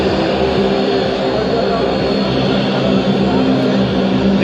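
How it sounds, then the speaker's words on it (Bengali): A fixed-wing airliner lands at Barisal airport in Bangladesh, its engine roar a loud, continuous wash heard from nearby with faint voices mixed in. "টিমের যে বিমানটি রয়েছে সে বিমানটি এইমাত্র ল্যান্ড করছে"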